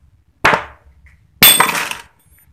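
Hammer blows in a motorcycle repair workshop working on a Yamaha V80 ignition, two sharp loud metallic strikes about a second apart, each ringing briefly before fading.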